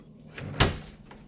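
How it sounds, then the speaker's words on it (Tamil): Police open the door of a lockup, making one sharp, close thump or clack with a fainter knock just before and after, over quiet room tone. "கதவு திறக்கப்பட்டது."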